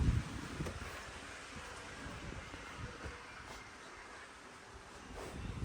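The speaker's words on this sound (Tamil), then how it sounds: "நல்ல காற்றடிக்குது." Wind gusts in through an open uPVC balcony window of a villa bedroom as a steady, soft whooshing rush with slight buffeting at the start. Faint and continuous, with no talking.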